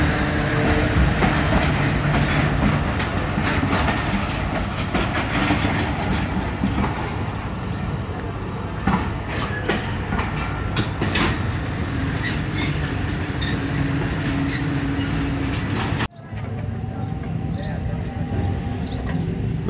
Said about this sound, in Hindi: पाकिस्तान एक्सप्रेस कराची से निकल के रावलपिंडी के लिए अभी अप्रोच बना रही है गुजरात रेलवे स्टेशन पे